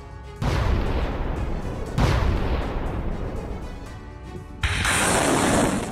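Ukrainian multiple rocket launch system firing salvos on Russian positions near Bakhmut, loud roaring whooshes of successive launches, each blast rising and sustaining, with no speech.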